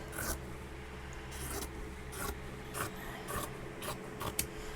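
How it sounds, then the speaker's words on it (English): Scissors trim excess fabric off the bottom edge of a Dollar Tree junk journal cover in a series of short, close snips. The cuts are spaced about half a second apart over a steady background hiss. "cut my fabric off on the bottom, the excess"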